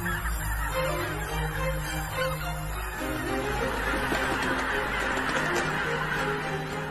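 A flock of geese in a river valley wetland honking continuously, a dense mix of overlapping calls at middle distance over a steady outdoor background.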